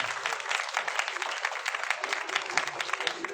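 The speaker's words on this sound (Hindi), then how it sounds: "एक बार इनके लिए तालियां।" An audience at a foundation day event claps for children called up to the front, a crisp, lively round of applause of many hands clapping at mid distance, with some crowd murmur mixed in.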